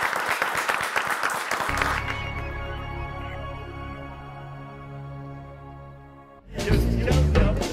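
On a Turkish television word-game show, a studio audience claps rhythmically to send a contestant off. A short musical sting rings out under it, then a fresh burst of clapping follows.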